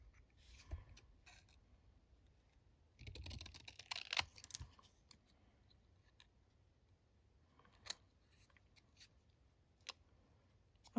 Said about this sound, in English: let's going to get my long scissors to cut this out